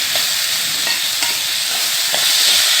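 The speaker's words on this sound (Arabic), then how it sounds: "نشوح الرز كده بالسمنه والزيت والفلفل الاسود والملح كده" Rice is sautéed in ghee and oil with black pepper and salt, making a loud, close, continuous sizzle with faint stirring scrapes and no voices.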